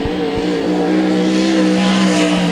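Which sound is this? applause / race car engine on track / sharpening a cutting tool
race car engine on track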